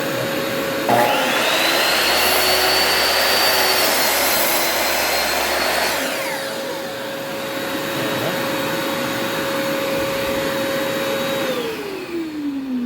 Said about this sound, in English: I'm gonna turn the vac shop on.